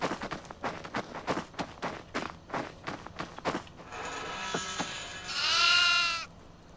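In the horror video game Devour, a run of rhythmic footsteps gives way to goats bleating, ending in one loud, wavering bleat close by.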